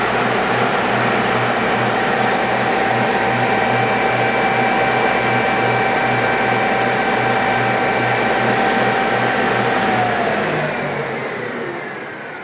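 A Takekawa RC-300S straight line rip saw with return runs at full speed, giving a loud, steady motor hum with a whining tone that begins to wind down near the end.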